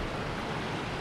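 A river flows through a spot in the Lake District fells near Great Calva, a continuous broadband rush of water, steady and fairly close with no other sounds.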